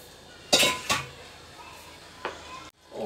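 Pasta tipped into a pan of white sauce, with sharp metallic clinks of utensils against the pan followed by softer scraping and stirring sounds.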